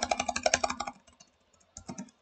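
Rapid burst of computer keyboard key clicks while playing Farming Simulator 15, a quick close run of taps that slows and stops, then a short second flurry of clicks.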